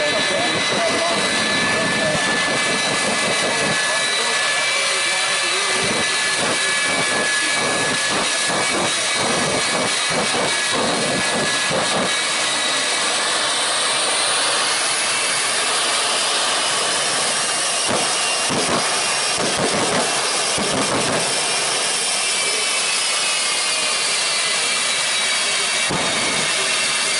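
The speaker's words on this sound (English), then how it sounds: "Onto the runway now in that jet truck." Jet truck with afterburner at an airshow, a custom-built chassis carrying a jet engine that roars loud and steady for the whole stretch with a sustained high whine, while an announcer talks over it.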